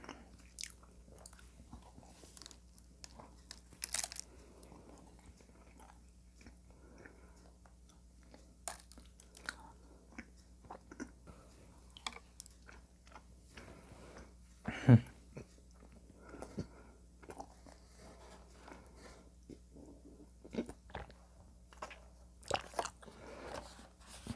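Close, quiet chewing and soft biting of a sugar-coated glutinous rice donut filled with red bean rice cake, with sticky, moist mouth sounds and occasional crunches of sugar over a low background hum, no talking.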